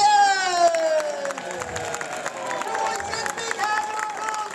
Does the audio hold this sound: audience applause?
yes